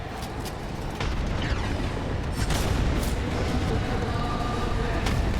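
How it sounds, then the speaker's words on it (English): Gibraltar's defensive bombardment in Apex Legends during a championship match, a dense, continuous roll of booming artillery explosions in close succession, loud and unbroken throughout the scene. "the defensive bombardments will come in from the Gibraltars"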